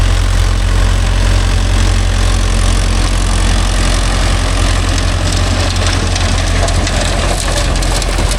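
A Mahindra tractor, Yuvo Tech Plus 585 4WD or 575 DI, idles with a rotavator attached, its diesel engine giving a loud, steady, low throbbing rumble that runs unbroken throughout, with no voices.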